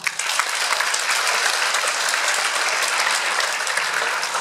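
A concert audience greets an accordion duo with dense, continuous applause, many hands clapping loudly and evenly throughout with no voices standing out.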